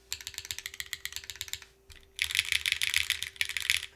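Typing on a Link split ergonomic mechanical keyboard with fairly high-pitched switches, close rapid clacking keystrokes in bursts with a short pause partway through.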